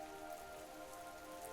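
Steady rain falls against a window, a soft continuous patter with no voices, heard from indoors on a rainy night.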